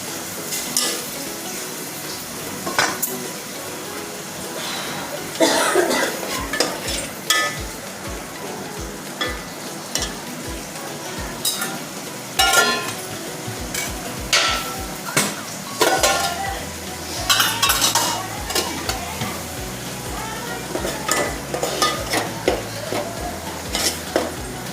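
Masala roasting in a pan for puran poli, a steady soft sizzle with repeated scraping and stirring strokes of a utensil against the pan, continuing for a long stretch without talk.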